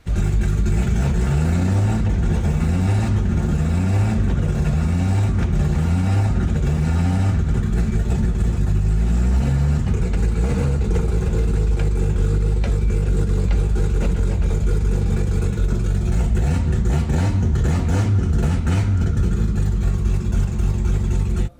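A Nissan GT-R running with no exhaust on a road test growls loudly and continuously, its raw engine note rising and falling in repeated revving pulses early on before settling into a sustained rough drone.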